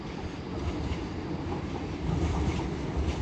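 An LNER Class 801 train, unit 801225, passes through Doncaster station on the East Coast Main Line with a steady, close rumble of rolling stock and faint wheel clatter, growing louder toward the end.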